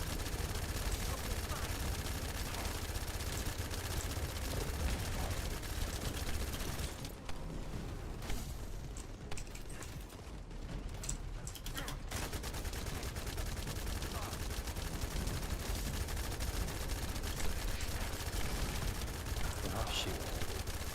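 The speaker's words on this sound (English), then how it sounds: "start spamming gunfire" Rapid bursts of automatic gunfire from The First Descendant, a dense, continuous barrage that keeps going through most of the stretch, with a short thinner gap in the middle.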